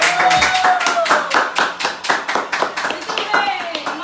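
Round of applause from a church gathering, a steady run of sharp claps lasting several seconds, with voices talking and calling out over it.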